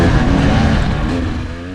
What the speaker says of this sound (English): Of course, it has that unmistakable two-stroke sound and produces outstanding usable power.